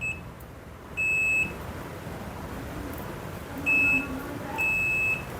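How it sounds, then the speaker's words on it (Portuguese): A multimeter's continuity tester gives three short, sharp electronic beeps, spaced unevenly, as its probes touch the stator wires of a car alternator over a low background hiss. "eu vou encostar em cada um desses, tem que bipar"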